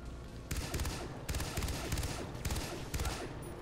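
Video game pistol shots from Far Cry 3: Blood Dragon crack out in four loud, evenly spaced bursts over a low background hum, each sharp report ringing briefly before the next.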